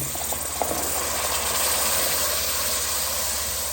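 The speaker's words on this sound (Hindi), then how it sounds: "तो इसे हम 2 या 3 मिनट तक ऐसे फ्राई करेंगे अच्छे से चने" Chickpeas frying in a pan of cooked masala in a home kitchen, a loud, dense, continuous sizzling hiss that holds steady throughout with no talking.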